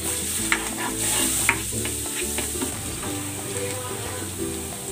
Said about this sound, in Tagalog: Maglalagay ako ng cooking oil. Magigisa ako ng konting bawang.